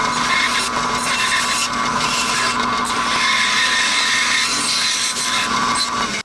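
A saw fitted with a 1/4 inch blade cuts 1-inch maple along a drawn profile for tongs, a continuous close, loud, gritty buzz with a steady high whine and no pauses.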